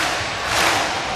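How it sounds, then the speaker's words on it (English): A volleyball arena crowd roars and claps together in a Viking clap at a Hawaii versus UCSB senior-night match, a dense loud wash of crowd noise with no clear single claps standing out. "Well, they're doing the clap part."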